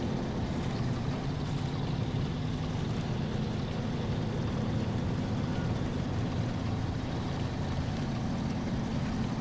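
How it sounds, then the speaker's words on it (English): A SnowRunner video game truck engine misfiring as it runs low on fuel, a steady low rumbling drone that continues evenly throughout with no talking. "I can already hear the engine starting to miss a little bit"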